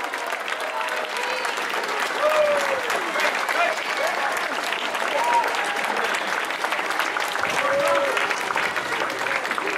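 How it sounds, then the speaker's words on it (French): Crowd in Geneva applauds the podium champions at the Tour de Romandie 2018 final-stage ceremony, with loud, dense clapping sustained throughout and scattered cheers and whistles rising above it. "J'aimerais, s'il vous plaît, Genève, qu'on applaudisse ces extraordinaires champions."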